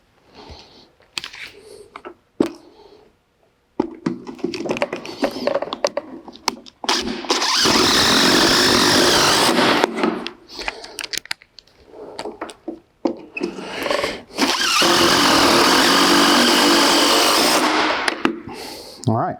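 Power drill driving screws down into a wooden rafter, two long sustained whirring bursts with brief pauses and clunks of handling between, close and loud.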